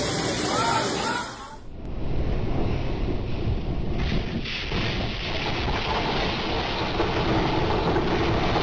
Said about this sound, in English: Massive waves slammed into a restaurant in California, sending seawater rushing inside and turning the entire place into a flooded disaster zone.